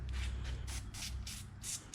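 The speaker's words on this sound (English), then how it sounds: "I'm gonna spray it on there. It's gonna kind of foam up." Bursts of hissing aerosol battery terminal cleaner spray onto a battery, several short foaming pulses in a row over a low background rumble, close by.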